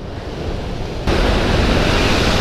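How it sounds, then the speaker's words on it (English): Large ocean waves crash against a rocky cliff, a loud, broad roar of surf that surges louder about a third of the way through and keeps rushing, with wind buffeting close to the microphone. "I see these huge waves."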